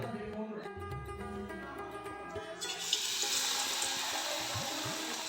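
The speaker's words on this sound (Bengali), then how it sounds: "একটা পুর ভরা লঙ্কা নেব এবং বেসনে ডুবিয়ে নেব ডুবিয়ে এটা গরম তেলের মধ্যে দেবো" A stuffed chilli coated in gram flour (besan) batter lowered into hot oil, breaking into a loud, steady broadband sizzle partway through after quieter kitchen sounds.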